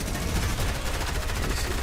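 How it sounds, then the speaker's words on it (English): Rapid automatic gunfire from an SMG or assault rifle in Fortnite, a dense close burst of continuous shots with no pause. "I will get an elim with the SMG and with the assault rifle"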